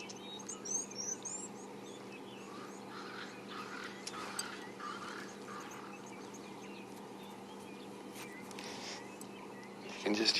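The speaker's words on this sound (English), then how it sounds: "You can just hear the rest of the bush waking up. Crested francolins, Cape turtle doves." Crested francolins and Cape turtle doves call through the dawn bush, a scatter of faint, distant bird calls layered over a steady background hum, with a brief louder burst near the end.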